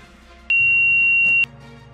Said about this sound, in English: If the life belt is removed, the system detects it via lever movement and high-pitched sound alarm is turned on.